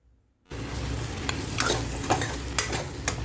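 After a brief silence, Andhra-style country chicken curry masala crackles in a pan, a steady close sizzle broken by several sharp scraping stirs.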